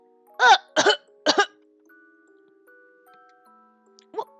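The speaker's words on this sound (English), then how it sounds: "Cough, cough." A video game character coughs three times in quick succession after choking on a strawberry, close and clear, over quiet game background tones, with one short faint cough or vocal sound near the end.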